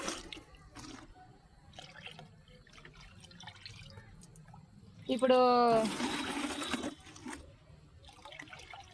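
Liquid fertilizer for chilli plants being poured into about twenty litres of water: after quiet moments with a voice, a steady splashing pour rises for about two seconds, then stops, and speech resumes.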